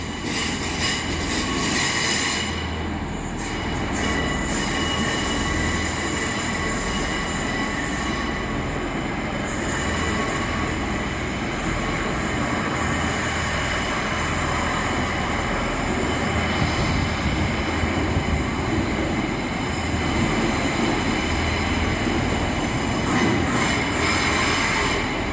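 A train rolls through a railway station in Bristol with a loud, continuous rumble of wheels on track, with squealing and metallic screeches rising above the steady roar, heard close throughout without talk.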